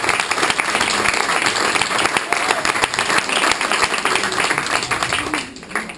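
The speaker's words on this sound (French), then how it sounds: "Oui, je pense qu'on peut l'applaudir." Loud, dense applause from an audience at a squash event's welcome ceremony, many hands clapping steadily for around six seconds before fading at the end.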